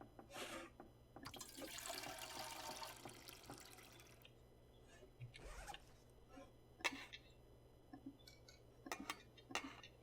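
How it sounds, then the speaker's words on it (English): Fuel is poured from one container into another in the survival video game The Long Dark: a steady, hissing liquid stream lasting a few seconds, then scattered drips and small clicks, quiet overall. "Let's refuel this."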